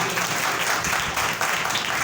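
A church congregation applauds loudly and continuously, dense clapping filling the room for a couple of seconds at a steady level with a faint murmur of voices underneath.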